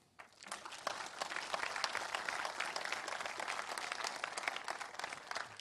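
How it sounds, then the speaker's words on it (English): Audience applause at a tech talk about Java 8 on Raspberry Pis, Lego and the Internet of Things: dense, steady clapping from a sizable crowd that starts abruptly and holds at an even level throughout, with no talking. "So give them all a round of applause."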